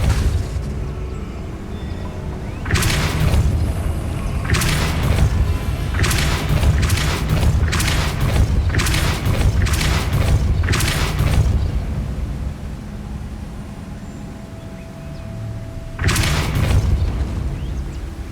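Depulso spell effects cast in the video game Hogwarts Legacy, heard as repeated deep booming blasts in a dense cluster, then a final blast after a quieter stretch.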